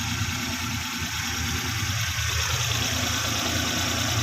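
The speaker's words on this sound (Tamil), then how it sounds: "வண்டி இப்போ பெட்ரோலில் ஸ்டார்ட் ஆகி கேஸுக்கு கன்வெர்ட் ஆச்சுன்னா வண்டி கேஸில் ஓடும்." A 2010 Maruti Omni MPFI van idles on LPG, a steady close engine hum with constant low vibration and no revving or talk.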